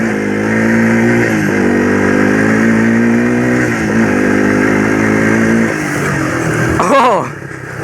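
Yamaha YTM225 three-wheeler ridden off road uphill, its engine revving loudly and close with rising and falling pitch, ending with a bumpy jolt as the revs drop.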